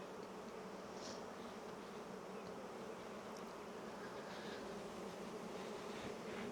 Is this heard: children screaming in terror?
no